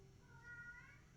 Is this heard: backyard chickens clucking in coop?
no